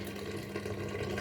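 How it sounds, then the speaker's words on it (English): Water runs steadily from a kitchen tap while hands are washed, a continuous close splashing hiss with no pauses. "wash my hands"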